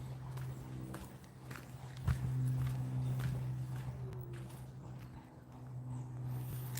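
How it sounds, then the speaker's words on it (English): Horse hooves clip-clop along a street on Mackinac Island, a steady uneven patter at moderate distance with a faint background hum and a brief thump partway through. "More horses tailing me, I think."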